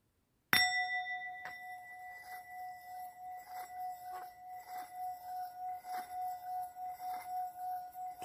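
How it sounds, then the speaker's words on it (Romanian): A Tibetan singing bowl holding a little water is struck once, then rings with a steady sustained tone and a slow, regular wavering pulse as the water vibrates, close and quiet, with no talking. "Am pus puțină apă într-un bol tibetan și vom face această simulare a vibrației, energiei apei."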